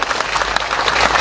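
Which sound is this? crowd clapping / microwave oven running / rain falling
crowd clapping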